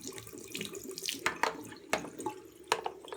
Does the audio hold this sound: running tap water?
yes